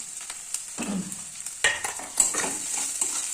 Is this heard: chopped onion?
yes